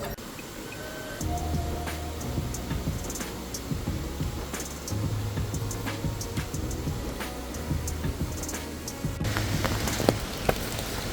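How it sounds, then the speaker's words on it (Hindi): Rain patters steadily on surfaces during a mountain trek on the Rudranath route in Uttarakhand, a dense close crackle of drops continuing throughout with occasional louder taps. "थोड़ा सा बारिश स्टार्ट हो गई है"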